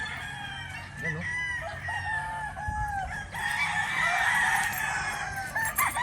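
White Kelso gamefowl roosters on a farm, with crowing and clucking rising over a busy background of other birds and farmyard noise, moderately near and continuous throughout.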